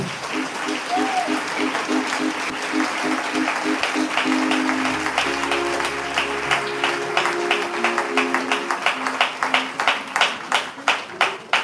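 A church congregation applauds and claps to acclaim the Lord Jesus Christ, with sustained crowd clapping that grows into a rhythmic, punchy beat near the end, while sung or held tones and voices sound underneath.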